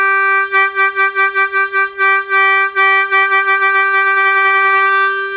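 A Hohner Student melodica holds one sustained reedy note shaped by diaphragm vibrato, its loudness pulsing in quick regular waves before settling into a steadier tone, close and clear.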